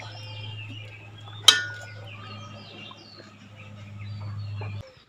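A single sharp metallic clink of a lid settling onto a pot of cooking goat meat as the gas is switched off, rising briefly over a steady low kitchen hum.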